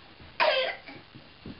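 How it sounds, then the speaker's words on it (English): A single sharp cough from a young boy pausing partway through crawling down a hallway, short and close, followed by faint quieter sounds. "Get a good cough in there"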